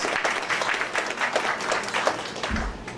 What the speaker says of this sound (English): get some applause